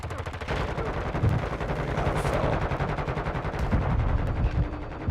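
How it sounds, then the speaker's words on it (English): Rapid automatic gunfire in the Call of Duty DMZ video game, dense bursts of machine-gun shots rattling continuously with a few heavier reports, loud and close, no talk over it. "You are taking effective fire."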